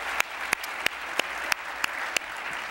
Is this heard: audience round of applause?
yes